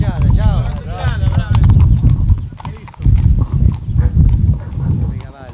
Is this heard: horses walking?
yes